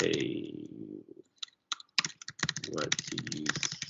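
Computer keyboard typing in Microsoft Teams, a burst of quick irregular clicks close up following a stretch of talk.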